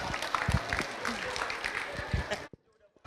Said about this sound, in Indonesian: Tepuk tangan dulu dong buat Jihan dan juga Sawa.